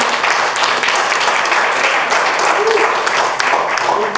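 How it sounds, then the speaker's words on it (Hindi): Loud, continuous applause from an audience at a film-making book launch, steady and full throughout with no pauses. "एक बार जोरदार तालियां"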